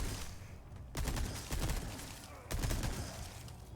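Bursts of rapid gunfire in Resident Evil 4 Remake, with two loud volleys separated by short pauses, close and sharp.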